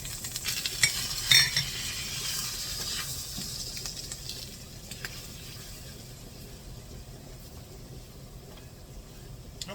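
Flour is stirred into hot oil in a frying pan, giving a soft steady sizzle with scraping stir strokes and a few utensil clinks, close and fairly quiet.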